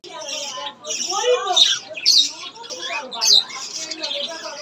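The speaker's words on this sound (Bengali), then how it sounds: "নিচের ব্যালকনিতে এসে দেখি পাখিগুলো সব কিচিরমিচির শব্দ করছে" Small birds chirp and squawk repeatedly on a residential balcony, bright rapid calls coming in close bursts over a faint murmur of background talk.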